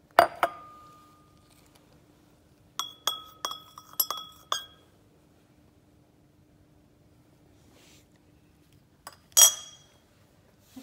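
Glassware clinks as strontium nitrate and copper sulfate solutions are poured together in a beaker: a sharp chime at the start, a cluster of light clinks midway and one more bright clink near the end, close and otherwise quiet.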